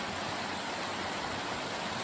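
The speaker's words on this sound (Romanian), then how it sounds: "Astăzi mă aflu la Cascada Pișoaia, în comuna Vidra, județul Alba." Pișoaia waterfall in Vidra, Alba, in the Apuseni mountains, pours in a steady, dense broadband rush that stays constant and close, with no voices over it.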